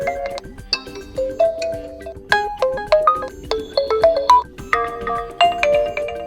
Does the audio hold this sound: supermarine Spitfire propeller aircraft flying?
no